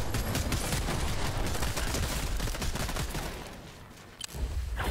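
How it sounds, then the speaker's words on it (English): Rapid SMG gunfire in Fortnite, a dense burst of loud automatic shots that continues for about four seconds, then cuts off and is followed by a brief final thump. "whoever thought to put this new SMG in Fortnite, this was a quiver"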